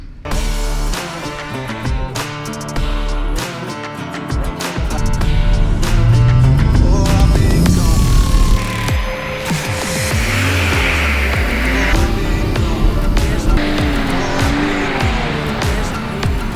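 A 450hp Audi RS5 drifts in snow, with loud engine revving rising and falling alongside long tire squeals and skidding. The sound swells midway and stays strong to the end.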